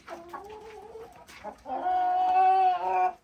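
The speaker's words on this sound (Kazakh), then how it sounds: "Мінекей әтештеріміз енді рахаттанып жүр." Home-breed chickens and roosters with feathered legs, some of them moulting, cluck nearby in a coop, a short clucking phrase followed by a louder, sustained call, close and clear with no talk.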